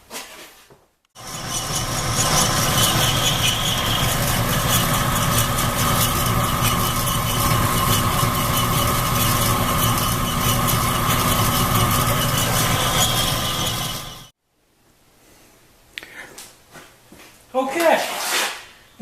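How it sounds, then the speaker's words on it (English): A bandsaw runs loud and steady for about thirteen seconds with a constant mechanical hum, then shuts off, leaving faint handling noises and brief talking. "let's go over to the bandsaw"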